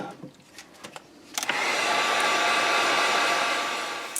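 A hair dryer blows steadily on a painted bluegill craft piece with masking tape, a loud continuous whoosh switching on after a second of quiet handling noises and running to the end.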